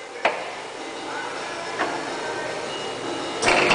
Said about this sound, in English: I'm gonna show you the fast speed now.